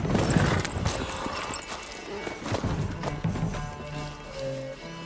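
Hooves clop along in a busy rhythm, with a horse's whinny and mixed game-like sounds and tones layered over it, from a horse in The Witcher video game.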